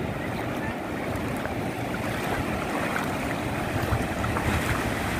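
Sea waves and strong tidal currents wash steadily at Praia Cibratel beach in Itanhaém on a cold, overcast, rainy day, with a dense continuous roar and wind buffeting the microphone.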